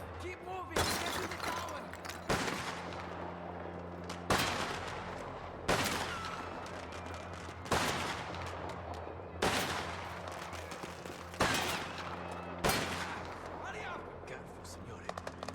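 Sharp gunshots ring out every second or two, loud, echoing bursts from the video game Mafia: The Old Country, with rumbling background noise between them.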